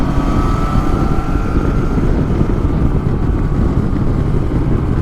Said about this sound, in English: Oh, but the bike is running so sweet in the night